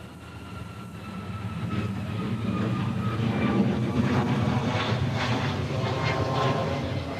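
Rising jet engine roar of an Airbus A380 departing Honolulu airport, building from a distant rumble to a loud, broad whoosh as it passes fairly near, with faint voices in the background.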